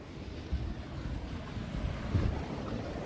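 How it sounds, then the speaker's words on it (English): Heavy, muddy brown water flowing fast after a lot of rain, a steady broad rushing roar with buffeting wind, continuous and fairly close with no voices. "It rained a lot, so this water is unusually heavy today, this morning."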